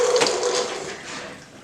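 Rinse water from washing a dyed wig drains out in a continuous rushing, gurgling flow, fairly close and steady, fading slightly toward the end.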